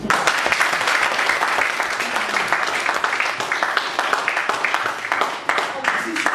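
A Toastmasters meeting audience applauds after a general evaluation, a dense, steady wash of clapping that runs loud and unbroken throughout.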